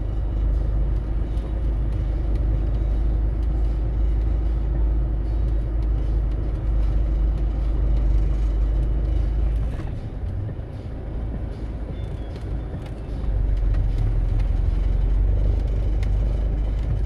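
Van reversing slowly over grass on snow tyres, a steady loud low engine and road rumble running throughout, dipping briefly in the middle before returning to full level, with no talking.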